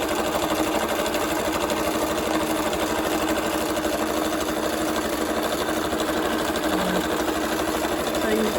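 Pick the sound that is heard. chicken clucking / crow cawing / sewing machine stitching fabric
sewing machine stitching fabric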